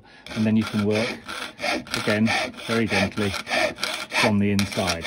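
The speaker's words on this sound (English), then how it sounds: "That's actually a piercing saw, very useful device." A hand piercing saw works through metal from the inside of a pierced hole in a jeweller's workshop, giving rapid rhythmic rasping strokes, close and fairly loud, under a man's calm spoken instructions.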